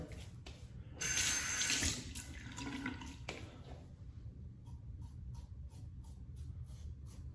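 Water from a faucet runs into a bathroom sink during shaving, a sudden loud gush that settles into a steady rush and then fades into faint drips and light clicks.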